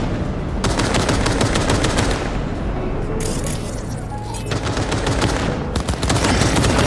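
Heavy weapons fire in the video game Cyberpunk 2077: rapid, loud bursts of automatic gunfire with booming impacts, nearly continuous across the stretch with brief gaps, up close and dominating the mix.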